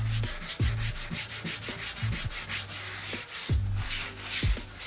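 A Oettinger TCR Street Kit car body part coated with guide coat powder is hand-sanded in quick, even back-and-forth strokes, the close, loud, rhythmic rasping repeating steadily with no talk.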